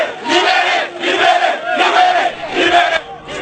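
Protesters at the edge of Emmanuel Macron's visit to Ouagadougou chant in unison, a loud crowd repeating one word in rhythmic swells of about four beats, heard alone without other talk.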